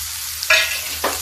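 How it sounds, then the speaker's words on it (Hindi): Mustard seeds crackle in hot oil for a moment: a low steady hiss broken by two quick bright sputtering bursts, close by and without speech. "अब देखिए राई तड़क गई है"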